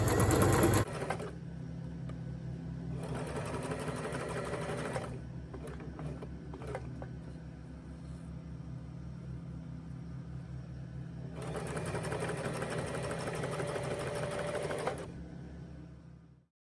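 A sewing machine stitching mosquito netting runs steadily, its whirring hum continuing for most of the stretch with brief pauses and a louder burst of fast stitching near the end; no talking.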